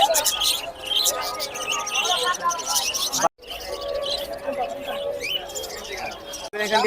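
Caged birds, including golden finches, chirp and tweet busily at the Tongi bird and poultry market, with people talking nearby and brief pauses in the noise.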